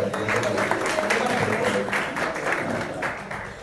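A small audience claps at a birthday celebration in a short burst of dense clapping that thins toward the end. Voices are heard under it.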